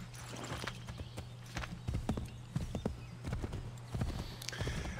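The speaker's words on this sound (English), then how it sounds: "Okay, now we can get a horse." Horse hooves clip-clop at a steady trot in the video game Assassin's Creed 3, with a brief whinny, over a low steady game hum and no talking.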